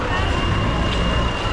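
Matatu buses and other vehicles rumble through a busy Kenyan street during demonstrations, a dense continuous roar of traffic with crowd babble mixed in.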